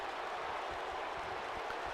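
A wrestling arena crowd in WWE 2K19 cheers and applauds in a steady, dense roar that fills the whole stretch at moderate volume, with no clear voices above it.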